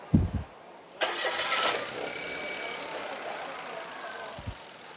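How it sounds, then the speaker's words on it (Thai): A Mitsubishi Attrage engine with an ignition coil wire fault cranks with a short whirring burst, catches, then settles into a steady idle, with a couple of low thumps before and after. "สตาร์ทดูว่าเครื่องจะนิ่งไหม"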